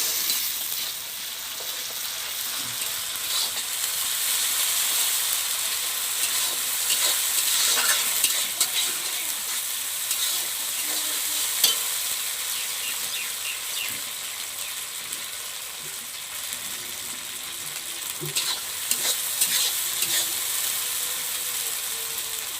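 Cumin paste and spices fry in a pan for a village-style rohu fish curry, giving a steady close sizzle broken by repeated scraping stir strokes, with no talking.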